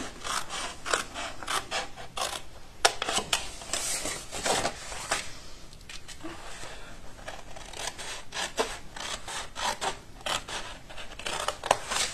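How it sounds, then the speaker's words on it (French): Paper being cut with scissors while making a scrapbook tag book, a steady run of close, crisp snips and slicing rubs that repeat irregularly and sit alone without any talking. "une fois que vous avez tracé vos traits, vous n'avez plus qu'à couper"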